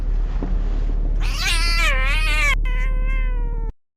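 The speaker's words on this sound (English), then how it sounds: "The cats were the first to scream." A cat lets out a loud, drawn-out, wavering yowl, then a second high screech, close and piercing before cutting off abruptly.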